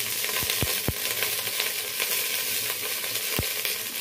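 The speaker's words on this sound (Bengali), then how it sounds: "এখানে এই 2 চামচ তেল দিলাম, সর্ষে দিচ্ছি, কারি পাতা দিচ্ছি ফোড়নে" Mustard seeds and curry leaves crackle in two spoons of hot oil, tempering for a Bengali tomato pulao: a steady close sizzle broken by several sharp pops and spits.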